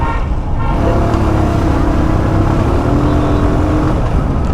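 A new motorbike's engine rumbles and revs close by as throttle is applied, with a steady low drone and faint road traffic around it.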